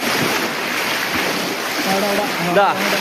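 Kakkidikkal waterfall pours in a steady, broad rush of falling water, close and continuous, with a few brief voices and faint tonal sounds rising over the roar near the end.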